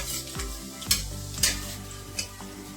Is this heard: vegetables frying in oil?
yes